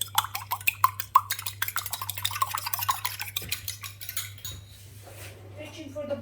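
Meat pie filling being mixed in a bowl with a utensil: rapid, steady rhythmic clinks and scrapes against the bowl, close and fairly loud, slowing to softer rustling for the last couple of seconds.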